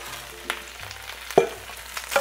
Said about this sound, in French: On va rajouter nos brocolis chinois.